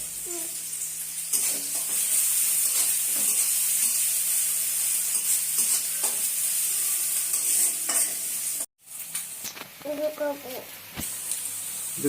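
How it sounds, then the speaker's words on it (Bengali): Noodles fry with onion and green chili in a pan, giving a steady loud sizzle with stirring scrapes, briefly cut off before resuming, while people talk in the background. "আম্মু নুডলস রান্না করতেছে বুঝছো?"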